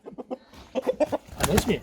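An old hen clucks in short, close bursts while being picked up and handled in a rural Posavina yard, with a voice talking over the later calls.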